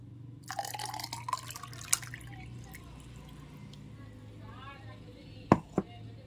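Kulukki sarbath, a Kerala shaken lime drink, poured into a glass in a quiet kitchen: a short splashing trickle near the start, then sparse drips and two sharp clinks toward the end.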